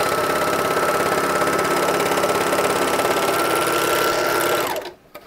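An overlocker sewing machine stitches cotton poplin fabric at high speed, giving a loud, steady mechanical whir that runs evenly and then winds down and stops abruptly near the end.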